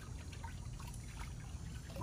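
Cool water is poured over a 200 lb pitbull during an outdoor bath on a hot day. It makes a faint, continuous, soft trickle and splash with no voices.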